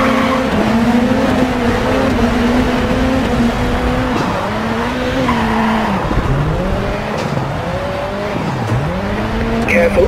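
Rally car engine in the Dirt 4 racing game revs hard and continuously, pitch sweeping up and down through gear changes with tire squeal and skidding, loud and close throughout.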